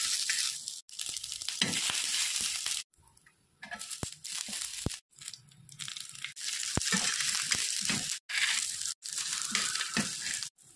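Peanuts, green chili, curry leaves and garlic are crushed for thecha in bursts of coarse grinding and crunching, close and loud, broken by short pauses.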